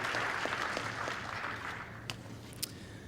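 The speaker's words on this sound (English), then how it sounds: "please give them another round of applause" Another round of applause from the audience at an education celebration and recognition event, sustained crowd clapping that gradually thins toward the end.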